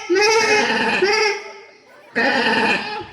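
A man imitates a goat with repeated nasal bleats in a quavering voice, one long call followed by a pause and then another, loud and close, performed as part of a comedy stage play.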